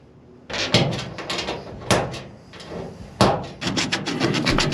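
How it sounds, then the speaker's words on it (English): Sanding the body of a Tacoma truck down to bare metal for an antenna ground: close, rough scraping strokes in repeated bursts with short pauses between them, with no talking. "I sand down to the bare metal so the antenna can ground properly"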